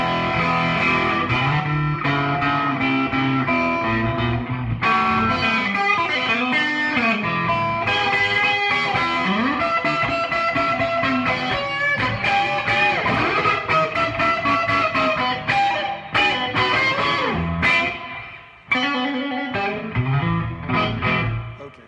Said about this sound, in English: So that, of course, is the neck pickup. I have a little bit of overdrive and I have some reverb going on